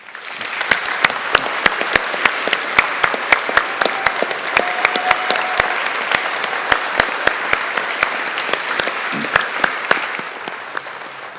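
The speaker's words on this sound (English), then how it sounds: "let's all give our graduates a round of applause" A large audience at a graduation ceremony applauds steadily, dense clapping sustained throughout with a few louder individual claps standing out.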